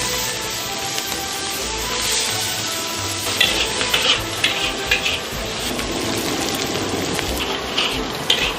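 Ginger, scallion, garlic, Sichuan pepper, pickled chili and pickled mustard greens stir-frying in hot rapeseed oil and lard, a dense, steady crackling sizzle close up with scraping stir strokes and brief louder bursts, no voices.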